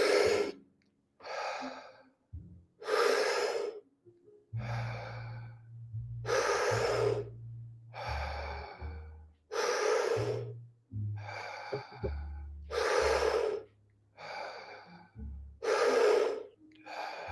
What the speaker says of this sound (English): keep breathing just like that